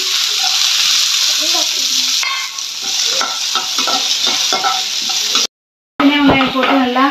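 Small shallots sauté with a little cumin in a pan for a drumstick-leaf stir-fry, giving a steady close sizzle broken by repeated spatula scrapes and clicks; a brief gap of silence comes before a voice speaks over the frying at the end.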